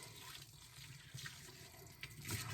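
Cold spring water from a creek is poured from a bucket over an in-ground worm bed, giving a steady, close splashing and trickling rush that swells in short bursts with no talking.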